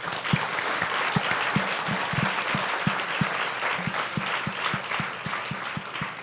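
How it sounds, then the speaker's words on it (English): An audience applauds a literary panel in Los Angeles with dense, steady clapping and a few louder, regularly spaced claps standing out near the front. "Let's give them one more round of applause, please"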